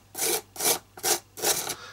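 Gritty sandpaper scrubs a small wooden box in four short, close, rasping strokes, each separated by a quick pause, with no voices over them.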